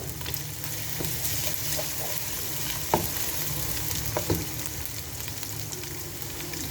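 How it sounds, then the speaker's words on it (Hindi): Steady sizzling of ginger-garlic paste frying in a pan for chicken biryani, with a few soft clicks of a spoon stirring, close and continuous with no talking. "इसको फ्राई करना है ताकि इसकी थोड़ी सी जो वो अदरक लहसुन का कच्चापन होता है"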